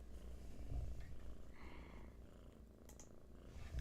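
A cat purrs softly and steadily up close, a low rumbling drone with faint background noise.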